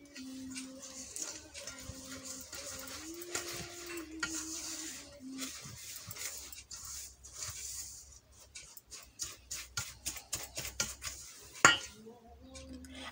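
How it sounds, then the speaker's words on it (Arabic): Dry ingredients for date maamoul dough, including mahlab and salt, are stirred together in a bowl, giving soft scraping swirls and then a run of quick, light clinks and taps close by. "هبتدي بقى اقلب كل المكونات دهيت في بعضها"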